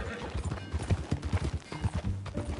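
Horse hooves clip-clop in Red Dead Redemption 2, a close, rhythmic trotting beat of repeated strikes with brief snorts, under occasional voices from the game.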